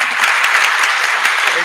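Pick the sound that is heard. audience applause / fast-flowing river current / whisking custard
audience applause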